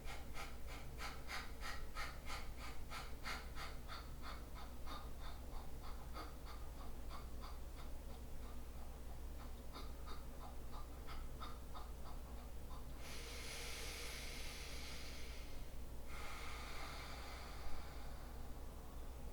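Pumping breaths during a yoga exercise, a rapid string of short, rhythmic nasal puffs that slows down, followed by a couple of longer, louder breaths. The breathing is close and heard alone.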